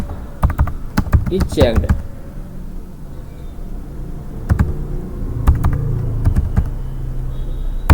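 Computer keyboard typing while entering audit notes in Tally accounting software: short clusters of close, crisp keystrokes that come and go, with someone talking over them.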